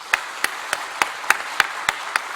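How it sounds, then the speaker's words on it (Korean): Clapping during a Sunday church service: eight sharp, evenly spaced claps in a steady rhythm, close and distinct against a quiet room. "여러분들이 큰 격려의 박수 한번 해주시기 바라요"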